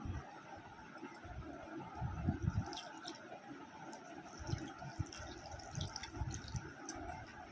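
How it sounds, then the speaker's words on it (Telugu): Vinegar is poured into cooled homemade chicken pickle, heard as a quiet, uneven liquid trickle and splash running steadily throughout, with no talking. "చికెన్ అంతా బాగా చల్లారిపోయిన తర్వాత ఇందులోని వెనిగర్ వేసుకుందామండి"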